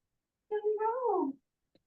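A cat lets out a single clear meow close by, rising then bending downward over nearly a second, standing alone in quiet with a faint click afterward.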